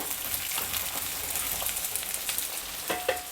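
Chopped garlic sizzling steadily in hot oil while being stirred in a pan for mango chitranna, a continuous close, fairly loud frying hiss with no voices.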